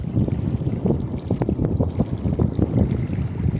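Waves lapping against a rocky lake shore with almost no sand in the early morning, a steady wash of water broken by soft irregular splashes, with some wind rumble on the microphone.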